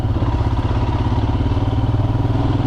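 A Royal Enfield Himalayan motorcycle, a 440-pound bike, crawls slowly over a rocky Montana singletrack trail, its engine a steady loud chugging thrum with rattles and clatter from the rough ground, close.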